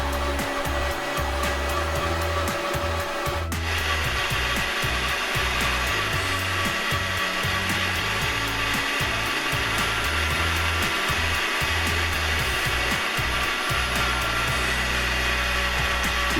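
Meat grinder re-grinding bratwurst meat for Oktoberfest brat burgers, heard as a steady, close motor drone with a rhythmic low chugging pulse throughout and a slight change in tone early on.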